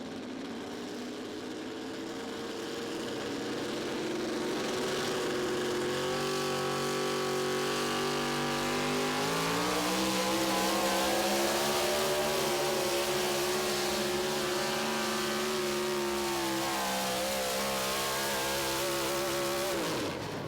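A four-wheel-drive pulling truck at a truck pull at the Dairyland Super Nationals in Tomah, Wisconsin, roars loudly on the throttle for a long sustained run, its engine pitch climbing and wavering under heavy load.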